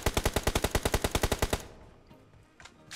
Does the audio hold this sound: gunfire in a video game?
yes